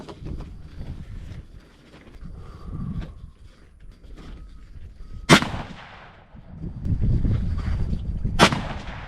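Two loud, sharp shots from a Ruger American Gen II rifle in 30-06, several seconds apart, each cracking over outdoor background noise and handling sounds.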